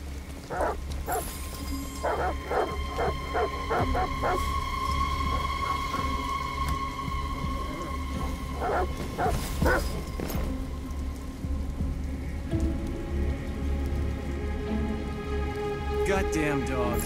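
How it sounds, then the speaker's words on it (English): Dogs bark repeatedly in the video game Detroit: Become Human, sharp yips and barks in bursts over steady rain falling on surfaces, with people talking at points. "Goddamn dogs. What the fuck are they barking at?"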